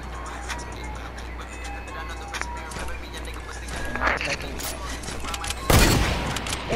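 Gunfire from a shooter video game comes as scattered shots under constant talking, and a louder burst lands near the end.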